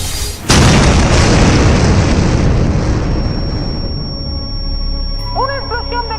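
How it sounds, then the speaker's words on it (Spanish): A sudden loud boom at a school bursts out and a heavy roar of rumbling debris follows for several seconds, then fades as high tonal ringing and a faint voice emerge at the end. "Una explosión de causas desconocidas en esta escuela ha dejado ingresados a varios estudiantes"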